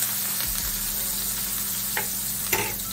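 Garlic sizzles steadily in a pan over a low stove flame while vegetables are sautéed, a soft continuous frying hiss with a couple of faint clicks and no talking.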